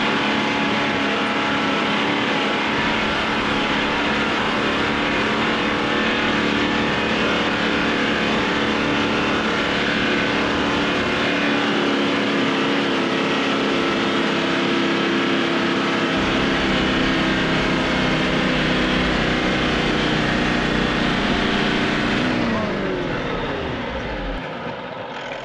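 Toyota Troopy four-wheel drive climbing a Simpson Desert sand dune in low ratio second gear at maximum revs, a loud sustained engine roar holding steady before dropping away as it bogs down near the end.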